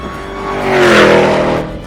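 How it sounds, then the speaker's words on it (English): A 2023 Dodge Challenger's 6.2-liter supercharged V8 revs up loudly and roars close by, swelling to a peak and then easing off in a single burst. "Hey Craig, what does a Hellcat sound like?"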